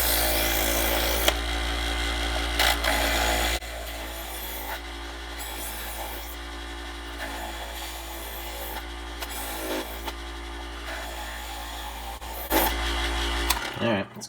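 Electric knife sharpener honing a knife blade, a steady motor hum with raspy grinding passes that start and stop as the blade is drawn through, loud and close.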